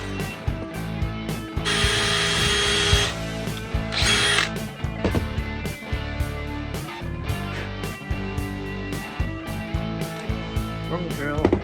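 A power drill drives screws into a camper van bed frame, with two loud bursts of motor whine between clicking ratchet sounds and handling knocks close by.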